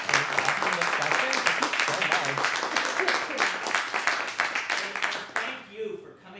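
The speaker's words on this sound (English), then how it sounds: "Can we get a round of applause for our authors?" Audience clapping for the authors at an LGBTQ author panel for educators, a brisk burst of applause that tapers off near the end, with some voices mixed in.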